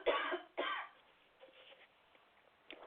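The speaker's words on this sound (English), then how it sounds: "I don't know why I'm coughing" Two close, quiet coughs in quick succession from a person, followed by softer throat-clearing sounds and a faint final cough.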